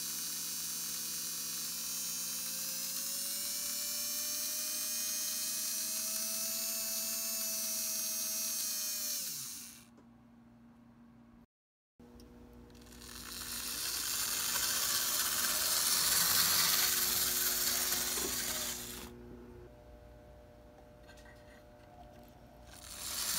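A prewar Gilbert HO Hudson model locomotive motor, rewired in series, runs on a bench with a steady whirring hum for about ten seconds. It cuts out briefly, then comes back as a rougher, louder buzzing run.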